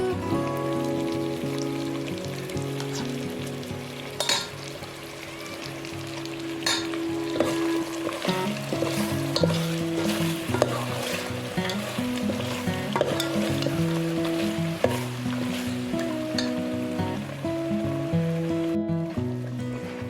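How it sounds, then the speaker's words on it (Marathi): Ground masala paste sizzles with mutton in a pan on a wood-fired stove, a steady crackling fry with intermittent stirring scrapes, while music plays loudly over it. "आता वाट्यावर केलेलं वाटण थोडं टाकत आहे"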